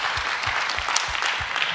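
An audience claps in dense, steady applause at a live evening event, loud and continuous throughout with no talking over it.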